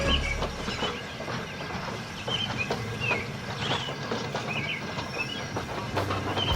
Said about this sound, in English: As Donald shunted trucks for his goods train, he spied a lone fuel tanker in a siding